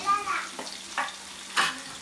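Ginger, garlic and onion frying in sunflower oil, a soft sizzle with a few brief stirring scrapes over about two seconds, close but fairly quiet.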